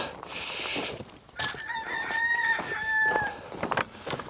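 A rooster crows once, a long clear call rising and holding, heard at moderate distance over faint outdoor background noise on a frozen allotment.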